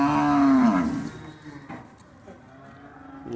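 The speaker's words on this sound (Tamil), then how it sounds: "பூரா மாடு பூரா பாருங்கள், சரியான மாடு." A single cow at a cattle gathering lets out one deep, falling moo close by, followed by a quieter stretch of faint background rustle.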